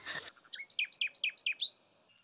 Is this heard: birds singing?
yes